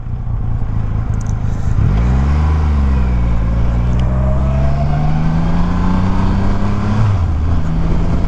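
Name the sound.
2021 Triumph Rocket 3 GT motorcycle being ridden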